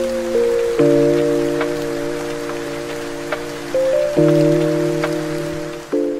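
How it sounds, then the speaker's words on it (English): Heavy rain falls outside in a steady, close hiss of drops on surfaces, running the whole time beneath sustained, held musical tones, with no talking. "But look at the rain."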